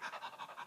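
Rapid breath-of-fire breathing as a vocal exercise, quick rhythmic panting with about seven even breaths in under a second, fairly faint and close, with no words.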